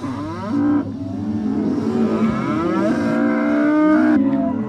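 Cows moo loudly and close by, several long overlapping calls rising and falling with barely a pause between them.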